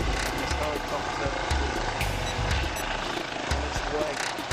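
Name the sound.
helicopter flying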